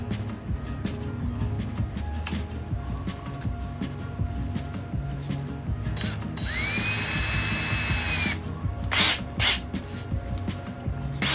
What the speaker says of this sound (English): Now it's time to choose a drill bit and drill a hole through my hull.